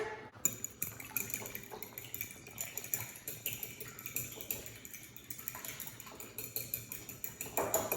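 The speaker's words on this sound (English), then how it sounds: "And then I'm going to mix that all together." Milk being mixed into ingredients in a bowl for a Passover breakfast: steady close clinking and scraping of a utensil against the bowl, with light liquid sloshing, in an uneven repeating rhythm.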